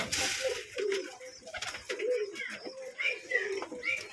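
Pigeons cooing at a pigeon farm in Keshabpur, Jashore, with several overlapping soft, rolling coos close by and continuous low background bustle.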